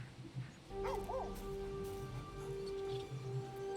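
A dog in the video game Baldur's Gate 3 gives a couple of short yips and whimpers over a steady layer of game music and ambience, close and moderately loud.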